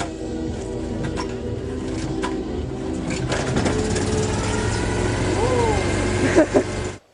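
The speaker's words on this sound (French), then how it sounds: "il fait un essai de démarrage" A Citroën Méhari engine cranks and turns over at close range in a continuous rough mechanical churn that grows louder before cutting off abruptly, while people talk over it.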